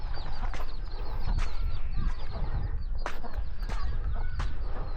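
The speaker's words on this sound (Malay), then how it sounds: "Ni banyak ayam sini. Tu ayam kukuk riu." Chickens in a Malay village on Jemaja Island, with repeated clucks and sharp calls popping out over a busy outdoor background, fairly close and spaced irregularly.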